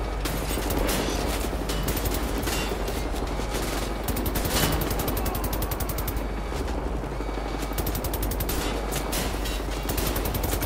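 Sustained rapid automatic gunfire in Wolfenstein: The New Order, dense continuous bursts with a mechanical rattle that hardly pause for about ten seconds, loud and close, with no talk.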